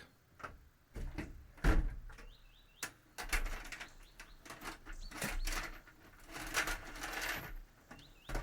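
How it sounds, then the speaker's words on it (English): A few heavy metallic clunks and bangs from a truck tailgate shutting, close by, with shuffling and rattling between them and no talking. "When the tailgate shuts, we sit and wait."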